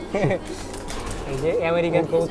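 A prized pigeon in Bangladesh gives soft, throaty coos close by while someone talks over it.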